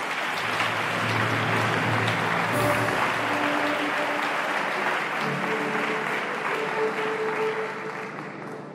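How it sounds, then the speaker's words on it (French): Cheering and applause from the audience at the investiture of the FECI president, a dense, loud wash of clapping mixed with acclamations and a few voices, sustained throughout and tapering slightly at the end. "je voudrais que vous vous félicitez vous-même par des acclamations"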